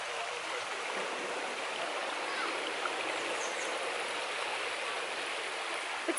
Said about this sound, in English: It's the water flowing.